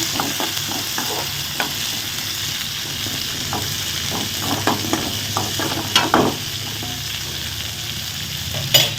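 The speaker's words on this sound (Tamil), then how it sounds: "நல்லா வதங்கட்டும் பார்த்திங்கன்னா இதில் இஞ்சி பூண்டெல்லாம் நல்லா வதங்கி" About ten garlic cloves, ginger and a green chilli sauté in oil for a ridge gourd curry, giving a continuous close sizzle with scattered crackles and a few scraping stirs, and no voices.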